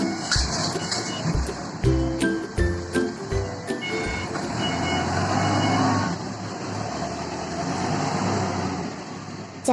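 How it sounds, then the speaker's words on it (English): Forklift truck with its engine running, giving a rapid series of loud, regular reversing beeps over a steady motor drone, then the engine continuing alone. "Forklift truck."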